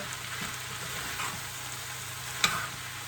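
Dry mince with aromatics and seasoning mixed in a pan, a steady soft sizzle throughout with faint scraping strokes and one sharp utensil tap near the end, no voices.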